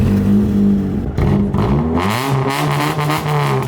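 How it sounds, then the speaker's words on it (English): A 1985 Toyota Corolla AE86 with a very loud exhaust and 285,948 miles revs close up, its engine note rising and falling in steady pitch sweeps with a raspy, clattering edge and no talk. "It's got a very loud exhaust."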